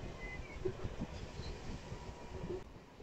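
The Purulia to Howrah MEMU train runs with a low, steady rumble and rattle of carriages, heard from inside, with faint squeaks and no talk.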